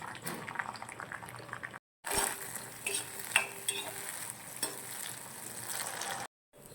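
Turkey berries (sundakkai) frying in hot oil in a home kitchen, a steady close sizzle with occasional stirring scrapes and clinks, briefly cut by short silent gaps.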